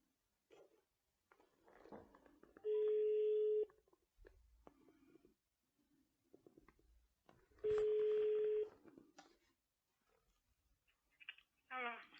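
Two long, steady telephone tones sound a few seconds apart, with quiet talk, clicks and handling noises in between.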